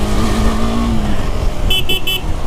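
A KTM 390 Adventure motorcycle engine drones and rises as the throttle opens, close and steady, followed by three short high-pitched beeps near the end.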